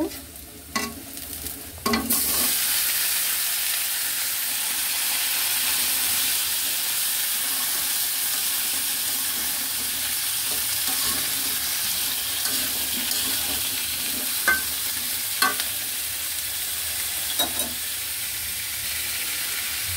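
Pumpkin pieces drop into a pan of fried onion with a sudden burst of sizzling, which settles into a continuous hiss punctuated by occasional scraping knocks as the mixture is stirred.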